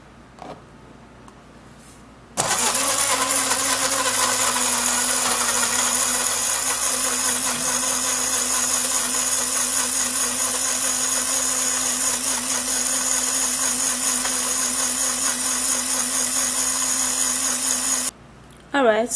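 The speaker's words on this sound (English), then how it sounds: "So I'm gonna take this, then I'm gonna put it in the blender." A kitchen blender whirs loudly and steadily for about fifteen seconds as it purees cucumber cubes, starting abruptly and cutting off just as suddenly near the end.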